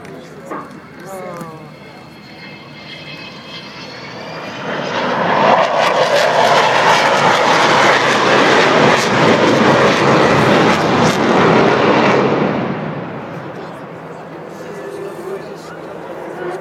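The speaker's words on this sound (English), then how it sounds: "a touch on the throttles of the 4 Roll Royce Bristol Olympus 202" Avro Vulcan XH558 bomber with four Rolls-Royce Bristol Olympus 202 engines making a flying display at Bournemouth Air Show 2015; a loud, broad jet roar swells in from a distance, peaks for several seconds, then fades as the aircraft passes, with a voice commentating.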